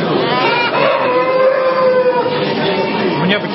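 A rooster crows amid busy clucking and chatter of chickens at a poultry and rabbit show in Belarus, moderately loud and close.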